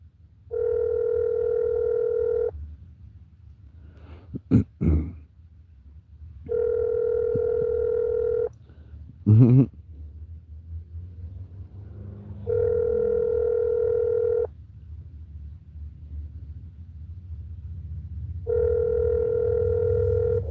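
An unanswered telephone rings back in a phone line: four long, even tones repeat at regular intervals, with faint background noise and a couple of short knocks between them.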